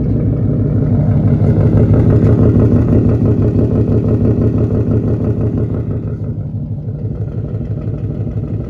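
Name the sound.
2018 Mustang 5.0 engine idling with mufflers cut off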